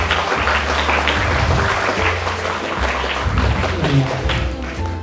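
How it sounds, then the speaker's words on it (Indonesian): Children clapping together at a Sunday school Christmas celebration in a church, a steady, loud burst of applause that runs the whole time, with a low hum and some murmuring voices underneath. "Tepuk tangan untuk Tuhan Yesus."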